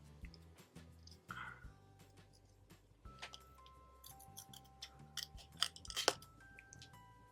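Scissors snip through paper while trimming away white edges on a craft project, quiet, close, scattered clipping sounds that grow sharper and more frequent toward the end.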